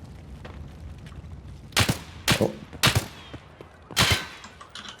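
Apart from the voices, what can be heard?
gunfire in a video game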